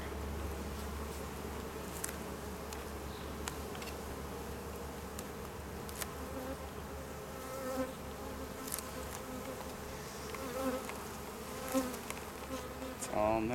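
Honeybees buzz inside an open beehive during an inspection, a steady, dense hum that holds close and even for the whole stretch with no talking.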